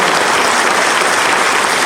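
Steady, loud applause from a concert audience at an event in Truskavets, continuous clapping with no gaps and no voices over it.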